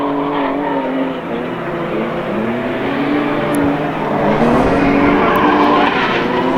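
A US Legends race car skids off the track into a gravel trap at New Hampshire Motor Speedway. Loud, close tire noise and engine sound rise toward the end as it slides.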